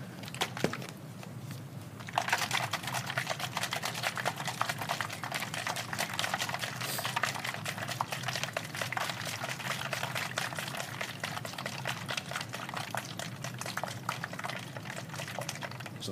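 Antacid tablets of calcium carbonate dissolve in a bottle during a chemistry lab, releasing carbon dioxide as a dense, even fizz that continues close and quiet throughout, with a few faint knocks at the start.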